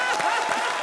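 Audience applause on a comedy talent show stage, a dense, steady round of clapping from a studio crowd, close and continuous, with a voice faintly mixed in.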